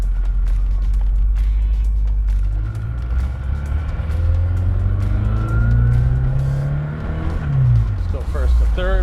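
A black 1986 Ford RS200 S-spec Group B rally car accelerates hard through first to third gear, its engine revving up and dropping between shifts, loud and close from inside the car, with a brief voice near the end.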